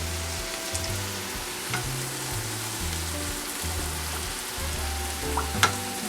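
A spatula works lumps of dried mustard apart in a hot frying pan for sloppy joes, with constant sizzling, repeated scraping strokes and a low rhythmic hum underneath, no speech.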